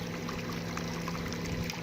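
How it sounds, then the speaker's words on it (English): Water runs over a small gold panning high banker sluice loaded with pay-dirt, a soft, steady trickling and splashing wash, quiet and continuous with no talking. "then we're going to run a little water on it"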